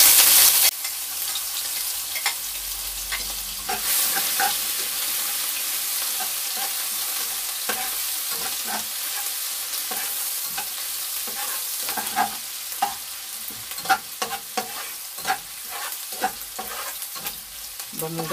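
Ginger sautés in a pan as the first step of a fish sarciado, giving a steady, close sizzle with frequent stirring scrapes and clinks throughout, without talk.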